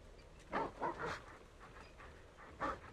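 A small dog in the video game Zenless Zone Zero gives a few soft, quick yips and barks, faint against a low game background hum.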